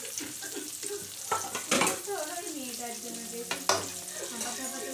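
Four medium-sized chopped onions fry and sizzle in a pan while being stirred. The steady hiss is broken by a few louder scrapes and clatters, and a voice is briefly heard.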